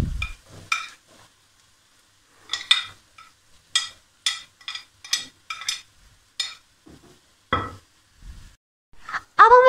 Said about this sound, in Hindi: अब हम इसमें बॉयल गाजर और मटर डालेंगे.